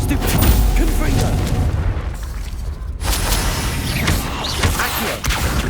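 A Confringo blasting spell explodes in Hogwarts Legacy: heavy booming bursts with crackling debris fill the scene, one loud blast followed by a brief dip and then another sustained rumbling impact amid busy combat noise.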